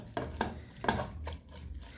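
A utensil scrapes and stirs shrimp with chermoula marinade in a pan a few times, with soft clinks and a faint sizzle underneath.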